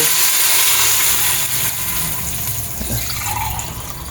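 Water poured from a glass into a cooking pot of basmati rice for a veg biryani, a steady close splashing gush that runs the whole time and eases slightly toward the end.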